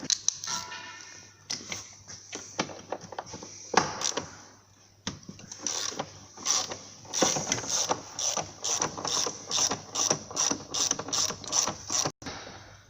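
Ratchet wrench working the upper-arm mounting bolts on a 2007 Audi A6 front suspension: scattered clicks and clanks, then a fast run of rhythmic ratcheting clicks, close and fairly quiet.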